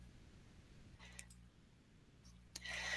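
A computer mouse clicking a few times while dragging menu items, short quiet clicks near the microphone over a low background hum.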